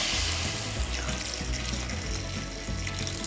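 Water is poured into a mango curry cooking in a pot, a steady close splashing flow with no talk.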